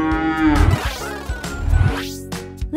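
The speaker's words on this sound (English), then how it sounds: "They are also often seen in farms and give a loud moo." A cow gives several loud, drawn-out moos on a farm, the low bellowing calls rising and falling close by with short gaps between them, with no talking.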